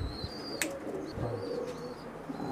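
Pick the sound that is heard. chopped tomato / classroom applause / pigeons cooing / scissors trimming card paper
pigeons cooing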